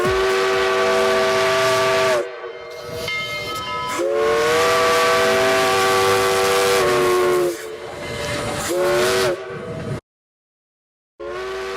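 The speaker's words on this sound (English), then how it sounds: "The right answer to this one is the sound of a train." A steam train whistle sounds in several long, loud blasts with breathy hiss, short pauses falling between blasts before it cuts off into silence near the end.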